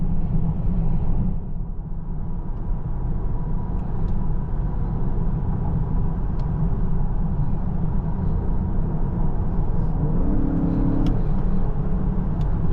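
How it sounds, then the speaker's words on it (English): A 2022 Lincoln Aviator Reserve SUV accelerating on the road, its engine a steady, smooth low rumble heard from inside the cabin, with constant road and wind noise and no voices. "flawless acceleration in this car."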